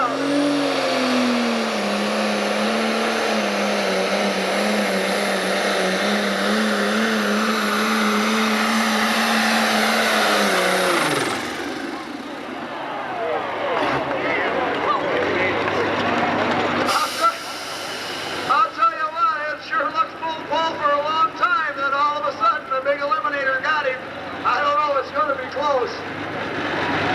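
Turbocharged pulling tractor at a 1996 Freeport, Illinois tractor pull, its engine roaring loud and sustained for about ten seconds before cutting out, followed by crowd and announcer noise.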